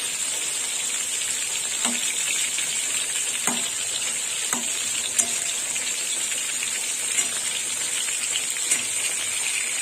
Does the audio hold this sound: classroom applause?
no